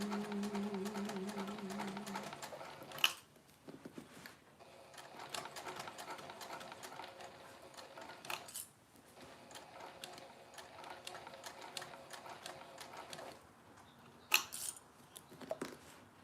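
A sewing machine fitted with a size 110 leather needle stitches in several runs of rapid, even mechanical clatter, quiet and close, separated by short pauses and clicks.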